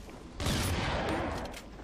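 A short, loud burst of rapid game gunfire, several shots fused into one rattling volley.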